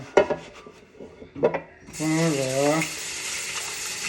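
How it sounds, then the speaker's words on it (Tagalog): A frying pan (kawali) being washed: scraping and clattering knocks under brief talk, then a steady rush of running tap water over the pan. "Hugasan ko muli yung kawali."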